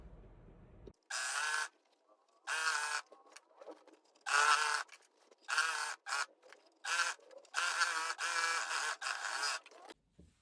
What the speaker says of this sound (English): And then we're going to overlock the whole thing.